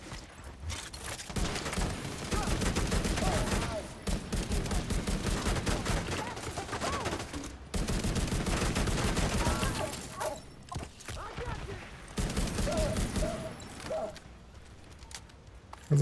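Sustained gunfire in a shooter video game, with rapid automatic bursts and dense volleys of shots going nearly continuously, broken by brief pauses and a few single shots.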